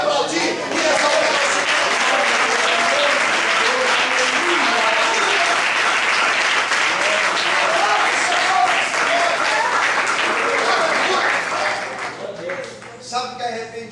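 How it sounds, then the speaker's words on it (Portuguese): A church congregation applauds in a dense, sustained wave of clapping that holds steady for about twelve seconds before thinning out and fading, with voices mixed into the crowd noise. "Você pode aplaudir e exaltar."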